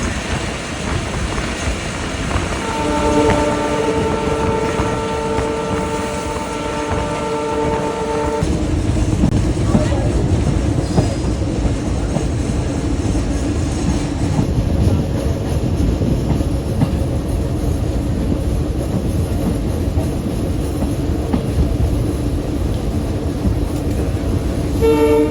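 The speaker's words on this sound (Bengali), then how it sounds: "আমাদের ট্রেন থ্রুপাস যাচ্ছে এখন রূপদিয়া স্টেশন" Betna commuter train from Benapole to Khulna passes through Rupdia station without stopping, with several horn toots early on, then a loud, close, steady rumble and rattle of the carriages rolling on.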